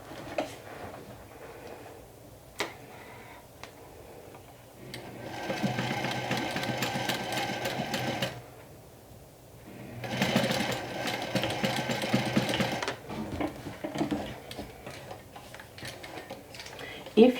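An industrial walking foot sewing machine stitches vinyl for a cosmetic bag in two sustained runs of rapid mechanical chatter, close by, with quiet ticks and handling noises between them.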